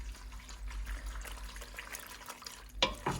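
Butter powder for boxed mac and cheese is stirred into water in a pot, giving a steady wet swishing and sloshing that ends in a brief louder scrape.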